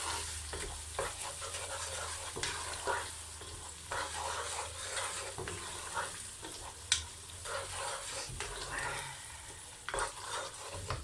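Spices stirred into sizzling aloo gobi curry in a single pot, a steady hiss of frying under repeated scraping, clattering strokes of a spoon close by, with no voices.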